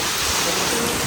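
Heavy nighttime rain pours down in a dense, unbroken hiss, loud and close, with no pauses over the short stretch.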